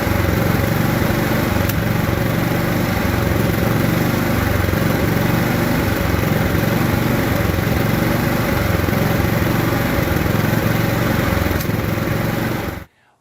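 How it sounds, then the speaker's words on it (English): A riding lawn mower with a dirty carburetor runs rough, its small engine chugging loudly and unevenly up close for several seconds before cutting off abruptly. "So I hear your riding lawnmower doesn't run all that great anymore."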